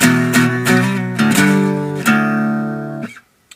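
A guitar plays the opening part of a song as a few sharply struck chords that ring and sustain. The phrase is loud and close, then cuts off abruptly into silence.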